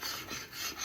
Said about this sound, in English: And we just keep on scraping. Just keep on scraping.